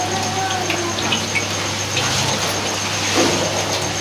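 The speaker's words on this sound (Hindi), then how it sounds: "और अभी बहुत तेज तेज नहा रहे हैं" Water splashing and gushing steadily as someone bathes, a continuous wash of pouring water with a low steady hum beneath and no clear talk.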